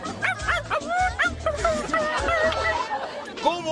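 Dog barking imitated by a voice on a comic beach show, a string of quick loud yips and barks with whimpers, with crowd chatter and laughter under it.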